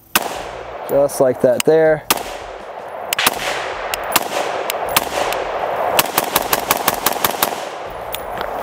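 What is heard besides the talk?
gunshots from AR-platform rifle with Trijicon ACOG scope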